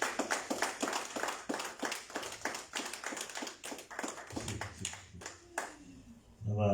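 A church congregation claps in a quick, steady rhythm to acclaim Jesus, the claps coming close together before they thin out and a voice briefly rises at the end.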